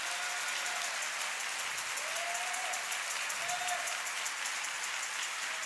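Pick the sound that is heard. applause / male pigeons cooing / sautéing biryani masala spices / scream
applause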